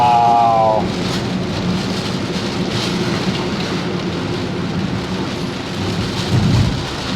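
Heavy rain pounds on a Daihatsu Ayla during a road trip from Carita to Jakarta via Pandeglang, Banten, a loud continuous hiss on the car with deep rolling thunder rumbling beneath it and swelling near the end.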